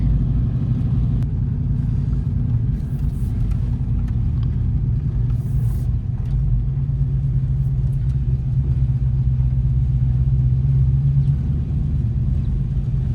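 Ford Mustang Fox Body on a test drive, a low steady engine and road rumble heard from inside the car, continuous and fairly loud with faint background voices.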